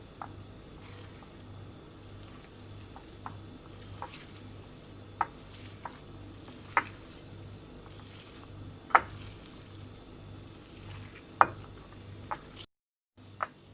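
Shami kabab ingredients of shredded beef being mixed in a pan: soft squishing and scraping with intermittent sharp clicks of a utensil against the pan, irregularly spaced over a faint steady hum, ending in brief silence, no talk.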